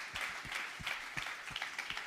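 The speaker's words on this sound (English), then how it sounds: "Let's give her a round of applause." Clapping from an audience honoring a prize winner at a camera giveaway event, falling into a steady beat of sharp claps about three per second, moderately close and alone without talk.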